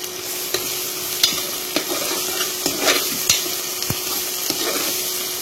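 Mint, coriander and green chillies sauté in a hot pan for Chettinad chicken biryani, a steady sizzle broken by irregular sharp scrapes and knocks of a spoon stirring against the metal.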